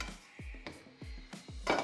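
Cooked tomatoes shifted from a stovetop pan into a mixer jar for tomato soup: a handful of sharp, close spoon knocks and clinks against metal and glass, spaced out with brief quiet gaps.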